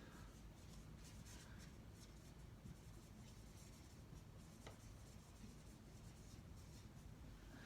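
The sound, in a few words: writing with a pen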